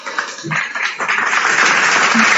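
Audience applause swells from scattered claps to a steady, dense wash of clapping at a religious talk, loud and continuous with a faint voice underneath early on.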